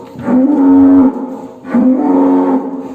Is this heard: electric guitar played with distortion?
no